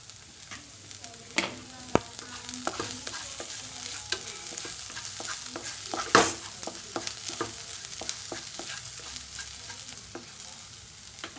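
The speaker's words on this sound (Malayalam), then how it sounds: "എന്നിട്ട് നമുക്ക് അതിലേക്ക് കരിയാപ്പില ഇട്ട് കൊടുക്കാം." Curry leaves sizzle in hot oil in a pan while a spoon stirs them for fry idli, steady frying crackle with sharp scraping clicks and pops close by, no voices.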